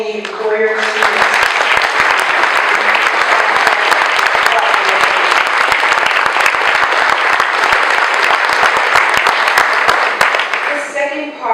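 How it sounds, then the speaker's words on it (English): An audience at a college experiential education awards breakfast bursts into loud, sustained applause lasting about ten seconds, then fades as a speaker resumes. "Let's give a round of applause for all the employer students."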